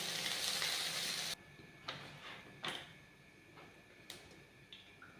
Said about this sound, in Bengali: সোয়াবিনটা ততক্ষণ ভাজা হোক।